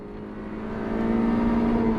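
A race car engine holds a high, steady drone on a hot lap around the Streets of Willow circuit run clockwise, the pitch climbing gradually as the throttle builds over two seconds.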